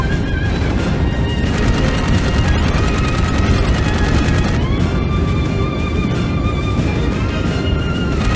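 Loud, relentless rapid gunfire and crashing impacts from the Dark Void video game, dense automatic bursts with whining tonal effects layered through the whole stretch.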